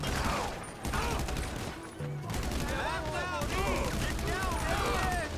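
Rapid gunfire bursts and volleys in a GTA Online survival match, dense and continuous over game noise, with excited players talking throughout.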